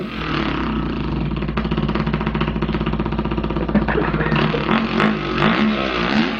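A voice imitates a big single-cylinder motorcycle engine, a steady, loud buzzing drone with throttle-like rises and wavering pitch near the end, close to the microphone.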